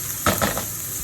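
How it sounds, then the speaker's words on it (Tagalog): Garlic and onion sautéing in a pan for canned jackfruit in coconut milk, a steady close sizzle with a couple of brief stirring scrapes early on, no talking. "igisa lang natin to. Ang ating bawang at saka sibuyas."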